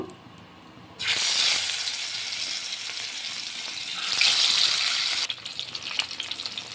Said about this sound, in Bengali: এবার মাছগুলোকে আমি ভেজে নিব